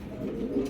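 An Indigo Andalusian pigeon, a large bird, gives a low, soft, continuous cooing close by, a steady murmuring burble with no voices over it.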